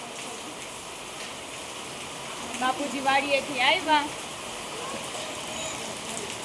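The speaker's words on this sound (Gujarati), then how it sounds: "અમારે તો સવાર સવારમાં વરસાદ ચાલુ થઈ ગયો છે" Steady rain hiss fills the whole stretch, even and close, while someone speaks briefly in the middle.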